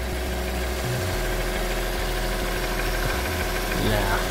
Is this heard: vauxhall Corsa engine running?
yes